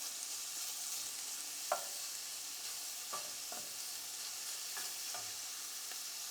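Bacon sizzles steadily in a pan with a soft, continuous frying hiss, broken by a few sharp clinks and scrapes as the strips are moved around.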